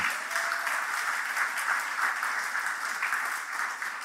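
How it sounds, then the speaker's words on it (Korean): Church congregation applauding for a pastor during an afternoon worship service, with a sustained, even wash of many hands clapping together, moderately loud and unbroken. "우리 정용원 목사님 위해서 박수 여러분 한번 주세요"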